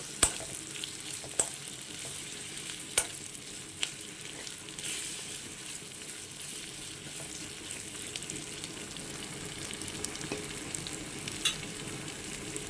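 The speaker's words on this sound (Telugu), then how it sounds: "ఇది కూడా ఒక 2 నిమిషాలు వేయించుకుందాము. సిమ్లో పెట్టి వేయించుకోండి" Onions sizzling steadily in a pan for prawn fried rice, a continuous moderate frying hiss with occasional faint scrapes and clicks of stirring, no voices.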